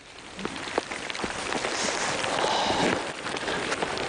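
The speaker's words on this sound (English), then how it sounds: "The rain's coming." Rain patters steadily on surfaces nearby in the Simien Mountains, Ethiopia, a soft continuous wash dotted with sharper drops, no voices.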